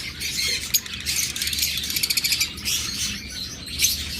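Fischer's lovebirds at a bird farm chirp and squawk in a busy, overlapping chorus of rapid high tweets, close and fairly loud, without speech.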